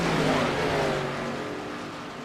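A race car roars past on the oval at Iowa Speedway, loud and close, with a sweeping engine tone that slowly fades over a couple of seconds.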